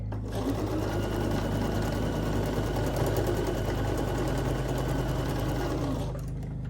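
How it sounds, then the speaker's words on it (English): A sewing machine stitching a quilt block runs in a fast, steady mechanical whir for about six seconds, close and continuous, then stops abruptly. "Let me pull this pin out just a little bit and sew a little closer."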